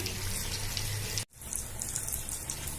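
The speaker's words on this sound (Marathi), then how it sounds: "जास्त स्लोही नको मीडियम गॅस ठेवा दोन ते तीन मिनिट व्यवस्थित खरपूस तळून घेऊ आपण" Bread rolls fry in oil over a medium gas flame, making a steady, close hiss of sizzling that cuts out for an instant midway and then resumes.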